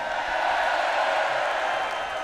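A festival crowd at a metal concert cheers in a steady, dense roar of voices that holds loud and unbroken throughout, with no distinct talk above it.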